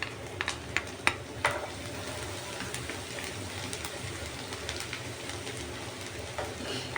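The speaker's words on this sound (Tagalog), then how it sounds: "Ngayon, ilalagay ko na yung ating bawang." Garlic sizzles in hot cooking oil in a pan for a beef with mushroom and sweet corn dish, a steady dense crackle with a few sharp clicks near the start and no talk.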